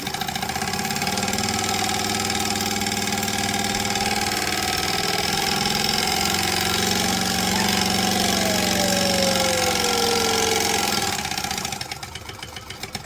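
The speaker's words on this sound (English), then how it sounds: "now I'm going to top stitch the other side" A sewing machine top stitches a fabric bag strap with a steady, fast, continuous motor whir that holds for about twelve seconds before stopping, close and alone without speech.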